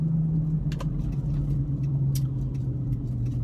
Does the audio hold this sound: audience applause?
no